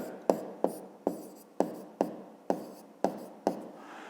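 Pen writing down a math calculation on paper, a series of about nine sharp taps and short scratchy strokes at a steady pace, close and fairly quiet, with no talk.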